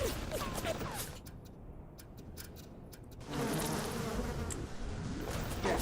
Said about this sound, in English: I don't like the bee noise, but the bees as an enemy are amazing